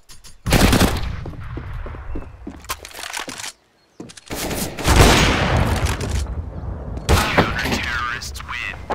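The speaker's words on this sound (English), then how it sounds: "Throwing a grenade." A grenade goes off during a Counter-Strike match, a loud close blast tangled in rapid bursts of rifle fire, with one brief near-silent gap, then more dense crackling shots and explosions to the end, under faint voices.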